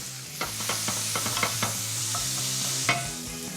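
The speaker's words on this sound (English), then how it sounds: "Get that bacon really nice and crispy. Fry off the chilli" Bacon and chilli fry in a pan with a constant hissing sizzle, while a utensil taps and scrapes in quick light strokes, up close with nobody speaking.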